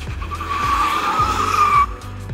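Tires of a 2022 Genesis GV70 2.5T squeal loudly as the rear end slides out, a sustained close skid over the engine's drone that fades near the end.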